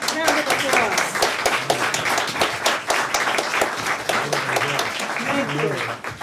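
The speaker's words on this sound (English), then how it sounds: "Why don't you all stand, actors, and so we can give you a round of applause" An audience applauds volunteer actors at a playwriting competition event, with distinct individual claps over a continuous patter while voices talk through it.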